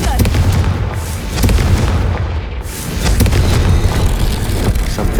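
A Confringo fire spell in Hogwarts Legacy bursts with loud, booming explosions, several heavy blasts rolling over one another in an echoing game soundscape.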